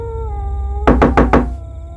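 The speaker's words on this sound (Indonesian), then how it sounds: "Terdengar suara orang mengetuk pintu, namun secara perlahan." Four slow, evenly spaced knocks on a door, loud and close, cutting across a steady tonal hum and low background noise.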